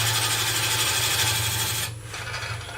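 A gouge cutting wood on a woodturning lathe, a close, steady buzzing hum with a gritty scraping edge that briefly thins and softens near the end, with no talking.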